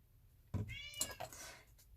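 A house cat meows close by, a single drawn-out, rising meow with a second short cry after it, alone in a quiet indoor room.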